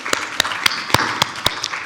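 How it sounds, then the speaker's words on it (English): Audience applause at a conference session, a short run of distinct, evenly spaced claps over a softer bed of scattered clapping, close and moderately loud. "A round of applause"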